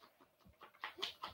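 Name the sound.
dog panting and whimpering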